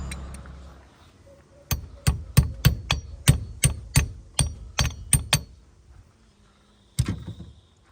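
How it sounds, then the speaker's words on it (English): A hammer knocking a split pin back into a broken PTO slide shaft: about a dozen sharp, close metallic blows in a quick, slightly uneven run, then one final strike after a pause. "So grab a hammer and I'll knock that back in"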